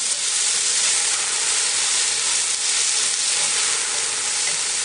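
Beef sizzles in a pan for a green bean stew, a steady, loud, close hiss with a dense crackle that holds evenly throughout, no voices.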